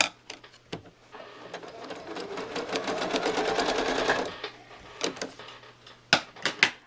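Domestic sewing machine stitching a straight line across a quilt, a steady rapid mechanical whir for about three seconds, followed by a few sharp clicks and taps of the machine.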